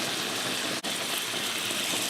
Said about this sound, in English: You can hear the sound of the water boiling on the other side for the rigatonis